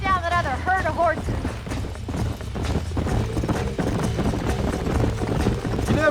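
Horse hooves clip-clop steadily in the Western video game Red Dead Redemption, a continuous close trotting rhythm under game ambience and music, with no one talking.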